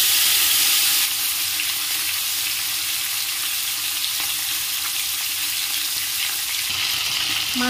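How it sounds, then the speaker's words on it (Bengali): Fish heads frying in hot oil in a pan, a continuous loud crackling sizzle with bright spitting that eases slightly after the first second, close by with no talking. "তেলটা আমার গরম হয়ে গেছে, এবার সব মাছের মাথাগুলো আমি ভেজে নেব"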